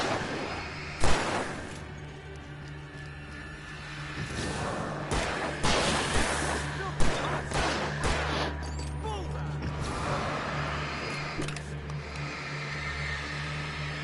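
Video game gunfire cracks out in scattered loud shots and short bursts over a steady low engine hum, with people talking in between.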